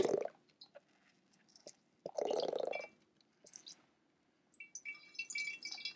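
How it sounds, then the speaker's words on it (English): Water dripping and trickling from a wet sponge in a simple preschool weather demonstration of rain, heard as soft scattered drips and squishy splashes with one louder burst of trickling in the middle, fairly close and without talk. "The water began to drip down from the sponge"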